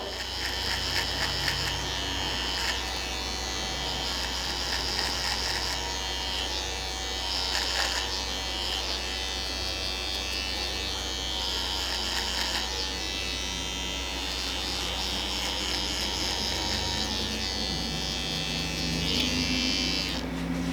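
A steady Andis ProClip AG2 pet clipper buzz runs close up throughout while finishing a high skin fade at a barbershop, with small shifts in pitch as it moves, and faint voices now and then in the background.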